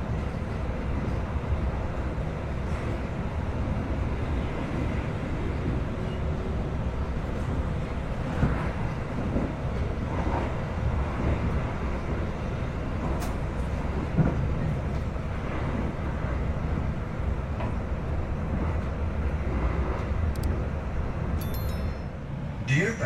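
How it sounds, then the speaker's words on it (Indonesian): Inside a new-generation Gumarang executive-class train carriage, a constant low rumble with soft rattles and faint track clicks runs throughout at a steady level, while a voice speaks over it. "Jadi namanya naik kereta paling baru yang guncangannya stabil, kecepatannya nggak lebih dari 100"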